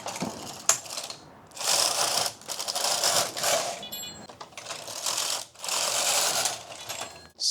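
An AYAB-controlled knitting machine carriage knits a sleeve in repeated passes, each a loud rattling mechanical clatter of gears and needles lasting about a second, separated by brief quieter pauses, close up with no voices.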